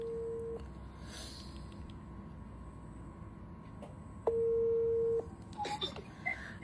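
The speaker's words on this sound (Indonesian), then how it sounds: "oke nih gue telepon sekarang Mbak Fitri" A mobile phone call being placed gives faint electronic ringback tones, a short steady tone, a pause, then a longer tone, followed by a brief rising chirp as the call connects, quiet and with no voices.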